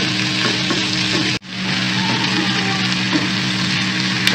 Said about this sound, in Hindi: 3 मिनट तक आप सिर्फ इसका कलर चेंज होने तक फ्राई करेंगे।